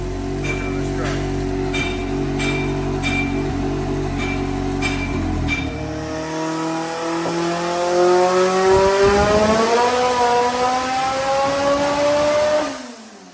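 A truck engine at a speed-fest event idles with a rough, rattling low drone and some sharp ticking, then revs hard, its pitch climbing and holding loud for several seconds before cutting off abruptly.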